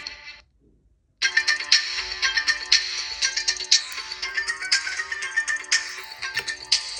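After a short silence, a bright electronic ringtone melody plays loudly from a smartwatch speaker, repeating its tinny, high-pitched tune.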